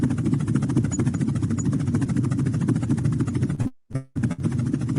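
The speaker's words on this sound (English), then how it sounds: "So that's a helicopter." Helicopter flying overhead, a loud, steady rotor and engine throb with rapid pulsing chop, close and continuous before cutting out abruptly near the end.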